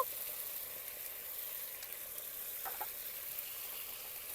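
Ground spices, turmeric and red chilli powder with slit green chillies, sizzle steadily in a pan for a village-style egg chop curry, a continuous soft hiss with faint stirring clinks.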